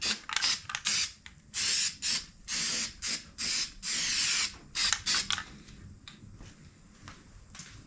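Bursts of aerosol weld-through primer sprayed over fresh welds on a 1968 Mustang fastback cowl panel, close and fairly loud, in about a dozen short hissing pulses of uneven length with brief gaps, then quieter rattling handling noise.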